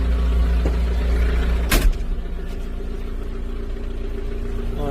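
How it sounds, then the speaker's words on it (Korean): An LS 45-horsepower used tractor engine idles steadily close by with an even low rumble, broken by one brief clunk early on. "네, 시동은 잘 걸리고요"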